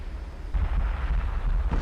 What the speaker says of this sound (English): Third missile impact.